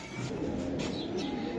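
Racing pigeon from a Bangladeshi racing club's 2023 races cooing, a steady low murmuring coo repeating throughout, close and moderately loud over faint bird chirps.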